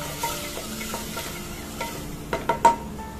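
A spoon stirs spices in a pressure cooker pot, scraping over a soft sizzle, with a few sharper clinks near the end.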